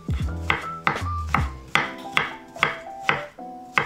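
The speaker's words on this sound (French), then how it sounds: "Je découpe aussi mes champignons." A knife chops mushrooms on a board in quick, sharp strikes, about nine distinct cuts with short ringing tails, close and clear with no talking.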